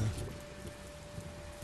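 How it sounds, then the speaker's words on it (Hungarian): Rain falls steadily in the Low Story video game on PS5, a soft continuous patter at low volume with a faint hum underneath, no voices. "Nézd, esőseppel."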